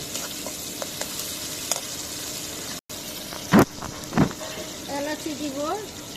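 Onion frying in a pan alongside salt, a steady soft sizzle with a couple of brief louder clatters of stirring, plus a short gap and faint voice-like tones near the end.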